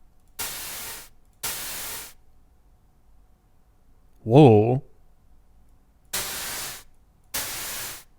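Synthesized high-frequency white noise plays in four steady hissing bursts of about half a second to a second each, separated by silence, with a faint tonal artifact in the hiss; a brief exclamation interrupts between the bursts.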